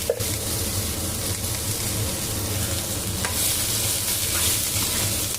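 Onions, tamarind and salt fry lightly in a pan with an even, dense sizzle and soft stirring scrapes throughout, close and fairly loud, no speech.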